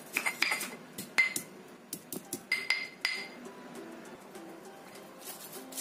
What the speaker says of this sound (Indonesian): Kemudian kita ulek halus.